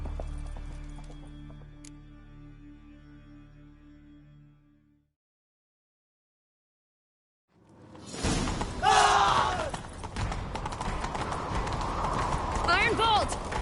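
Horse hooves clip-clop at a gallop in The Witcher 3, loud and close, with a game score and effects layered over them after a few seconds of silence.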